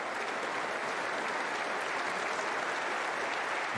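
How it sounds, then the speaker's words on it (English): Soft, steady applause from a snooker crowd at the Masters, filling the room evenly for several seconds and heard at a distance, with no voices over it. "Appreciated by the crowd."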